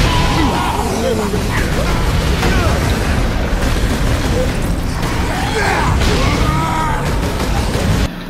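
Explosions and booming blasts from the video game Warhammer Space Marine, battling orcs and turrets, rumble continuously and loudly through the whole stretch amid dense game action, with a voice talking over the chaos.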